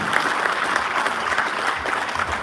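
Applause from a concert audience at a Christmas show, a dense and even roar of many clapping hands that holds steady at full strength throughout without any voices.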